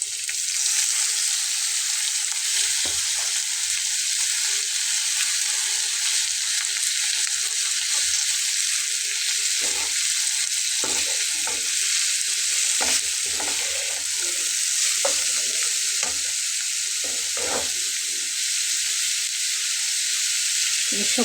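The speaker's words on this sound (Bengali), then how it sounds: "এখন এই মশলাটার ভেতরে আমি আগে থেকে কুচি করে নেওয়া আলুটা কিন্তু দিয়ে দেব" Chopped potato frying in a ground spice paste for a hilsa fish recipe, a steady loud sizzle and hiss throughout with repeated scraping stirs of the spatula in the pan.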